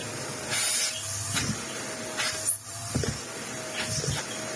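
A Victor vacuum pulls a clog out of the hose of a cheap Ewbank Motion EW3001 vacuum cleaner, giving airy suction hiss in several loud bursts with rattling surges.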